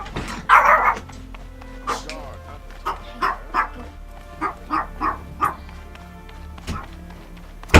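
A real dog barking repeatedly nearby, a series of sharp, fairly loud barks spaced irregularly over several seconds, heard over quiet video game sound and some talking.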